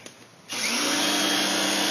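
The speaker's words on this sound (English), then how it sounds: "I'm just going to hit it with the power washer one more time" A power washer starts up after a quiet moment and sprays steadily with a loud, constant hissing roar while cleaning an off-white porch, with bleach on the surface.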